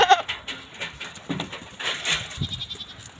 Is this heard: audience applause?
no